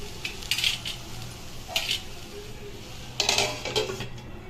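Metal clatter of a lid being set over a frying pan of peas cooking, a few short clanks at irregular intervals over a faint background hiss, with no talking.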